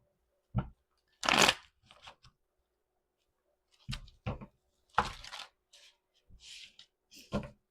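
Several quick bursts of cards being shuffled, crisp riffling sounds separated by short pauses, close and fairly quiet.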